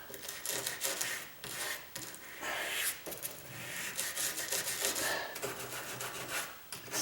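Rough rubbing and rasping strokes of sandpaper on wood, close and uneven, repeated over several seconds with brief pauses.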